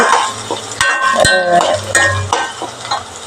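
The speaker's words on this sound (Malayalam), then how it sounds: "ഇറച്ചി അതിൽ കിടന്ന് നന്നായി വഴറ്റിയെടുക്കണം" Beef being stirred and sautéed in a hot pan with ginger, chilli and curry leaves, steady sizzling under sharp spoon scrapes and clinks against the pan, close and fairly loud.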